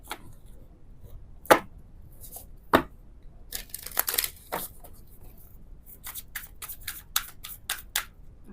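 Tarot cards being shuffled by hand in a quiet room, heard as a few sharp snaps followed by a run of quick papery riffles and flicks, close up and soft overall.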